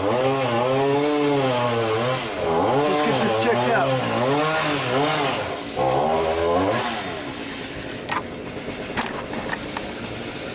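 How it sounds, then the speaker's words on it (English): A chainsaw engine revs and wavers loudly, then drops to a lower idle while a person speaks briefly over it. "that would be a chainsaw."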